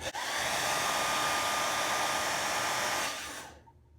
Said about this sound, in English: now we're just hitting it with a hair dryer to get it to conform